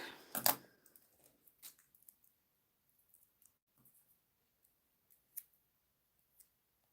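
Scissors snip through paper card while a balcony-themed anniversary card is assembled: one loud close cut near the start, then scattered light clicks and small handling taps, with a sharper snip later, and no voices.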